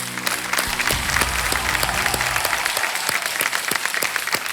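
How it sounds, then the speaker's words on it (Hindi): A studio audience at a TV quiz show applauds a contestant who has just won, with loud, dense clapping that begins over a brief musical sting and continues steadily to the end. "इनके लिए तालियां बज जाएं।"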